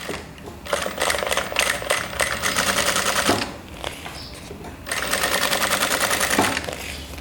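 A sewing machine runs in fast, steady bursts, stitching through plastic stretched over fabric with a long stitch and loosened tension. It is loud and close and pauses briefly partway through.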